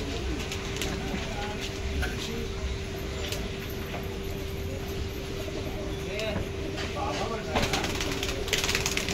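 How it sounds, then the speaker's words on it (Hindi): Domestic pigeons, paired birds of good quality, coo steadily at close range, with a faint constant hum and some background noise throughout. "सब अच्छे क्वालिटी के कबूतर है"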